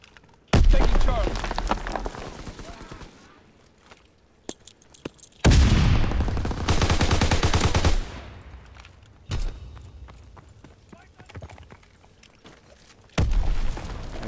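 Bursts of STG-44 assault rifle fire crackle in Call of Duty: WWII multiplayer, loud and close, several separate volleys with quieter gaps between them and distant battle noise under the shooting.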